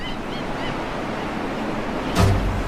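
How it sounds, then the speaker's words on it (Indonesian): Arabian Sea surf rolls onto the beach at Aden, a steady wash of waves with wind buffeting the microphone and a sharper gust or crash near the end. "Kita sampai di pantai Laut Arab"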